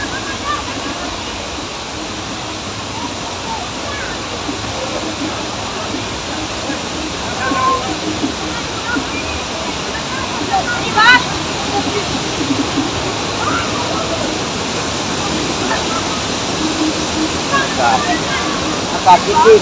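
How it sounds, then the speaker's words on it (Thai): A waterfall pours in a steady, loud roar of rushing water that stays constant throughout, with faint background voices now and then. "น้ำตกนี่"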